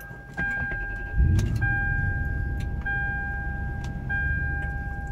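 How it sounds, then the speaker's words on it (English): A 1998 Lexus LX470 engine cranks and catches, settling into a low idle, while a dashboard chime beeps repeatedly in a steady rhythm. "Start the car up."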